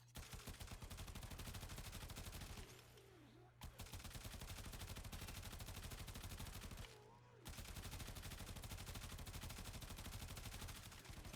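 The Tenora Prime rifle in Warframe fires in rapid, continuous bursts, a dense unbroken stream of shots with two brief pauses between strings of fire, loud and close with no voices.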